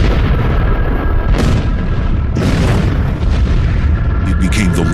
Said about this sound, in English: the fireball entered our atmosphere and violently exploded above Siberia's